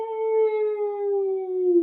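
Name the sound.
wolf howling, audiobook sound effect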